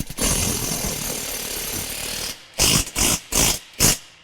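An impact wrench tightens a 13 mm bolt on a John Deere Z735M zero-turn mower trimmer mounting kit. A continuous buzzing whir gives way to four short, sharp hammering bursts, loud and close, with no talking.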